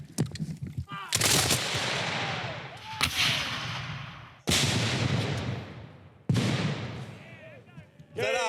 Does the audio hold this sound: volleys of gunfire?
yes